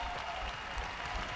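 A home crowd at an Oregon volleyball match applauds in a dense, steady wash of clapping and cheering, heard at a distance throughout.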